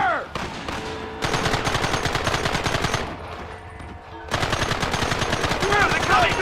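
Rapid gunfire in the Western game Red Dead Redemption, long dense machine-gun bursts with brief gaps between them, loud and near, with shouted voices mixed in.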